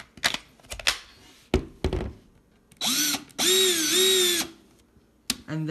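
A Black & Decker 20V Max lithium cordless drill, handled with clicks and knocks, then spins up in two close whining bursts with rising and falling pitch, followed by more handling taps.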